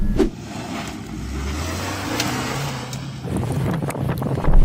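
A Suzuki Jimny engine drones steadily while it drives off-road, holding a low, fairly loud hum that rises slightly in pitch partway through, with rougher bumps and rattles near the end.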